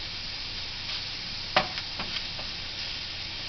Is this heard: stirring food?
yes